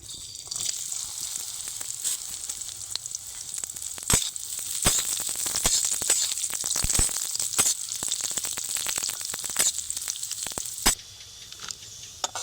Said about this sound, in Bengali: এইবার কিশমিশগুলো ভেজে নেব।